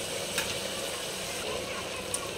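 Spices sizzling in hot oil for a Marathi phodni tempering for masala rice, a steady soft crackling hiss throughout with a couple of small pops, fairly quiet.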